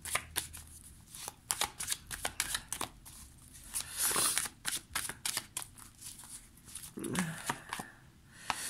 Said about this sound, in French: On va prendre une carte pour voir la dynamique de cette pleine lune.